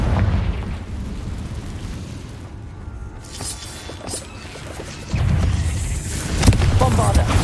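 Fiery blasts from the Confringo spell in Hogwarts Legacy burst and crash, with a heavy booming impact late in the sequence over a rumbling low-end background.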